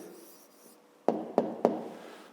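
A pen writes an answer on paper for a fifth-grade maths exercise: a soft scratch followed by three quick, distinct taps of the pen against the page, close and quiet.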